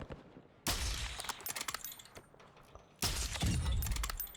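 Bursts of gunfire aimed at AI enemies in Call of Duty DMZ, sharp cracking volleys in two clusters separated by a quieter stretch, fairly loud and close, without speech.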